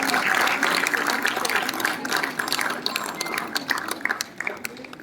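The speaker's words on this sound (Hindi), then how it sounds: "तालियों के साथ स्वागत।" Audience applause welcoming an award recipient to the stage at an annual award ceremony and cultural program, a steady sustained clapping from a large crowd that fills the whole stretch and tapers slightly near the end.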